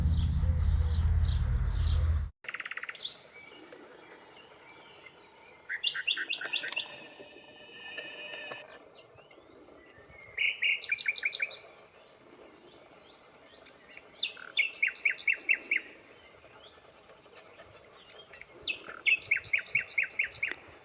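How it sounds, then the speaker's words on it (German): A nightingale sings in open countryside by a cornfield along a riverside cycle path, delivering repeated bursts of bright, rapid phrases with short pauses between them, fairly close and clear over a quiet background. "Wie lange wünsche ich mir mal wieder eine Nachtigall zu hören."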